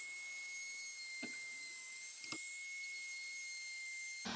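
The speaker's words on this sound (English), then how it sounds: "the outside edges of the handles I just use my trim router with a I think it's a 5mm round end bit" A trim router fitted with a 5mm round end bit shapes the outside edges of push-block handles, giving a loud, close, steady high whine with a few brief thumps as the cut changes, and no voices.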